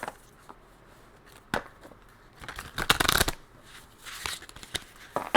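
Tarot cards riffle and slap in a few quick shuffles, soft and close, with quiet gaps between the bursts.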